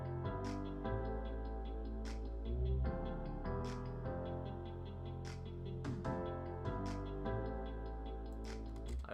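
A future bass beat with deep sub bass, reversed muted guitar and crisp finger snaps, played as a steady looping groove with sharp rhythmic hits at a moderate, even level.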